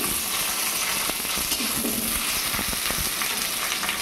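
Whole onions dropped into hot oil for an egg curry, a loud continuous sizzle and crackle with occasional stirring clinks and no speech.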